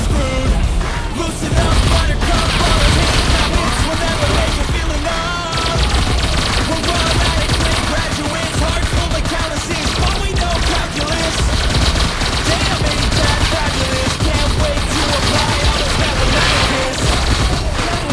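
Gunfire in a shooter video game, dense rapid bursts and booms running continuously and loudly, mixed with a song's singing voice over the top.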